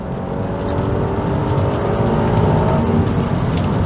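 A Honda Accord Euro CL9 with a J35 V6, driven hard, gives a loud, steady engine drone with rising harmonic tones that holds close throughout with no talking.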